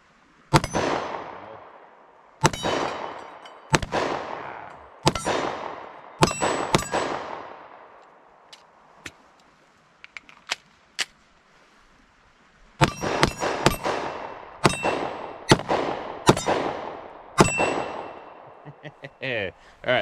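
A Taurus GX4 Carry pistol fired at a range, sharp gunshots with ringing clangs off steel targets, first in spaced pairs, then a pause with a few faint pings, then a faster string of shots.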